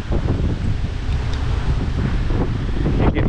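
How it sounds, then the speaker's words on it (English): Strong gusting wind from Hurricane Francine, a Category 2 storm, roars loudly and continuously across the microphone with rough buffeting, without any voices. "Hear the wind."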